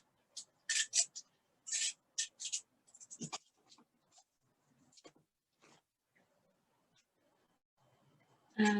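Scissors snip through amaryllis flower stems in a series of sharp, close cuts, followed by soft rustling and brief taping sounds while a florist works on a Christmas arrangement; faint background noise in between.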